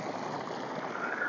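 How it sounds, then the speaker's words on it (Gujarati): Steady flow of water pouring from a running pump motor where people bathe, a constant gurgling rush at close range, slightly louder than a faint background and unbroken throughout. "અત્યારે થથડા અવાજ આવે પાણીનો"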